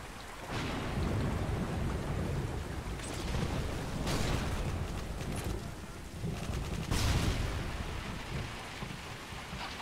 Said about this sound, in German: Ich finde das Gewitter sieht aber geil aus.